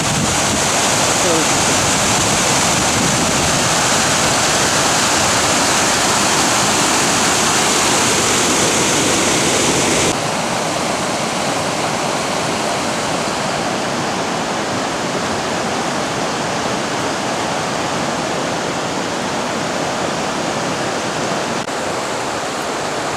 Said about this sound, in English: Well, here we are at High Falls.